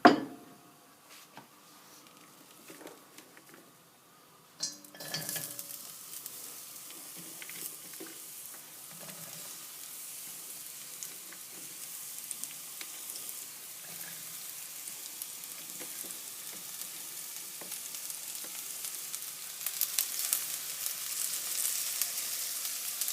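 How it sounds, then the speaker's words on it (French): Onion and garlic in olive oil in a wok: a few clatters and faint crackles, then after a sharp clank a soft sizzle that steadily grows louder and busier toward the end. "Dans un wok, mettez de l'huile d'olive, de l'oignon et de l'ail."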